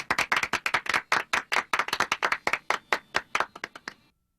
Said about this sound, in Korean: 저희가 박수를 좀 힘차게 좀 쳐주자고요